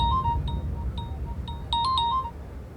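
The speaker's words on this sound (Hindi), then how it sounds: "इतने टाइम से तुमको फोन लगा रही हूँ बरखा, तुम फोन ही नहीं उठा रही हो।" A mobile phone rings with a repeating electronic melody of bright, chiming tones, clear and steady against a low background hum.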